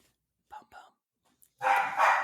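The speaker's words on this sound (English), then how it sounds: "You hear my dogs getting into the last minute?" Dogs bark in a short burst of loud, close yaps at the end, following a few brief spoken words.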